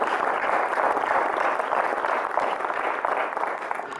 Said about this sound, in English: And I think John Pramberg deserves a round of applause as the outgoing president.